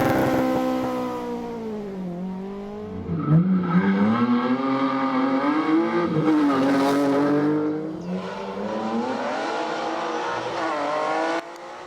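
A Ford Escort rally car tears through the first stage of the 2023 Jim Clark Reivers Rally, its engine rising and falling loudly as it revs through gear changes and holds high speed close by.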